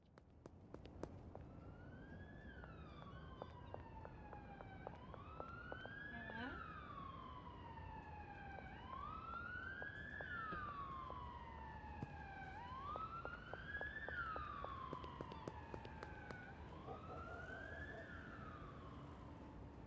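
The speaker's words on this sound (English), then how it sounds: "Don't know what all the sirens are about." Emergency vehicle sirens wail in slow, rising and falling sweeps, several overlapping at moderate distance and fairly loud for the whole stretch over steady street noise.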